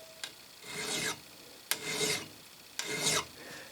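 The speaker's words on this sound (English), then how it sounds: "We'll check it for hardness using a file." A steel file rasps across an annealed metal vise part in three distinct strokes, each starting with a sharp scrape and settling into gritty rubbing, close and loud with no talking.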